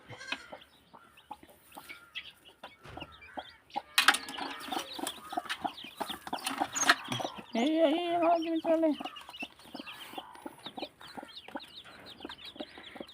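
A native country hen with a brood of ten newly hatched chicks: the hen clucks repeatedly while the chicks keep up busy, high peeping nearby, rising to a louder cackling burst midway.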